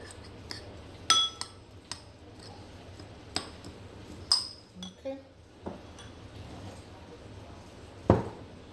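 Scattered clinks and taps of a utensil against a bowl while snapper seasoning is mixed for Jamaican-style baked snapper, irregular and fairly close over a quiet kitchen background.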